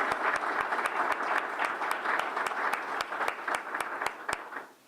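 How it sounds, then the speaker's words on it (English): An audience applauds award nominees at a community impact awards event. Continuous crowd clapping is punctuated by a few sharp, regular claps close by, and the sound tapers off at the end. "Big round of applause for our first group of nominees."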